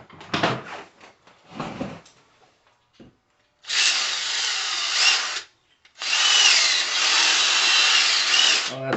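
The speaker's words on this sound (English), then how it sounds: "I'm going to use a power drill and drill these out to get those balls out" A power drill bores out plastic parts of a Traxxas E-Maxx RC truck that were stuck with Loctite, running in two long, loud whirring bursts after a few clicks and handling knocks.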